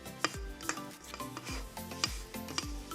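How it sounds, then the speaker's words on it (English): A spatula scraping down the side of a mixing bowl of vegan chocolate chip cookie dough, making a series of quiet, rhythmic strokes about every half second, close and alone. "we're going to scrape down the side"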